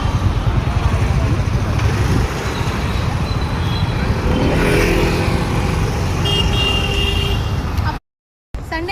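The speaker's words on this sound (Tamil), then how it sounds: "Heavy traffic." Heavy road traffic on a busy Mumbai street, a loud constant roar of cars and motorbikes with repeated horn toots, and voices talking over it until a brief cutout near the end.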